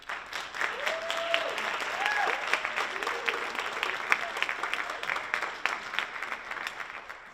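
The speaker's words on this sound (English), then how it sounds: "can I just hear another round of applause for Andre?" An audience applauds a speaker at a Best Buddies ambassador showcase, dense steady clapping filling the room for several seconds with faint cheers and voices mixed in.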